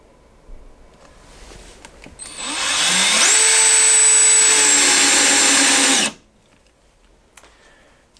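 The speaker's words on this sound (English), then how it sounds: "Now we can go ahead and sink the screw." A power drill driving a screw down into carpet, whirring up to a loud steady whine that rises in pitch for about three seconds before cutting off abruptly.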